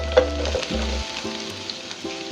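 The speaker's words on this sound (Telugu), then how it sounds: "ఇలా వేడైన ఆయిల్లో మనం ఆనియన్స్ వేసుకోవాలి" Onions tipped into hot oil in a pan while making a cashew paneer curry, giving a steady close sizzle with a few stirring knocks and clinks, and no voices.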